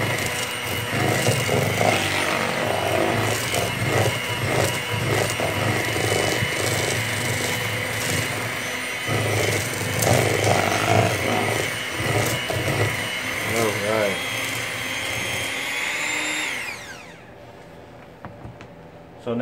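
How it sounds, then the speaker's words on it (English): An electric hand mixer on low speed creams snickerdoodle dough in a bowl with a steady, loud motor whir and scraping, running continuously before winding down and stopping near the end. "we're going to cream these together using our handy dandy mixer on a little low setting"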